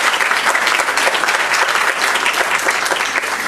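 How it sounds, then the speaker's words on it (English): Lecture audience gives a round of applause at a public endowment award lecture, a loud, sustained crackle of many hands clapping close by, even and unbroken throughout. "a round of applause for the ladies here"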